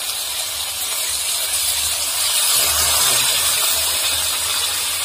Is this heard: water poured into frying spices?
yes